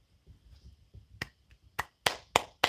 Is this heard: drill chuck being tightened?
no